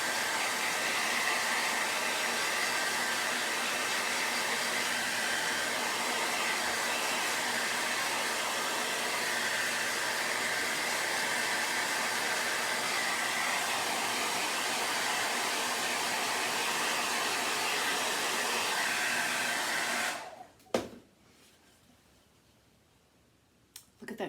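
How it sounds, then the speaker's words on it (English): A blow dryer runs steadily at close range for about twenty seconds to speed the drying of an aged gray finish on wood, then cuts off abruptly, leaving near silence with a couple of faint clicks. "I'm going to speed that up, use the blow dryer."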